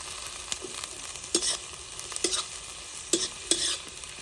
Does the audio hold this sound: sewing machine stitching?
no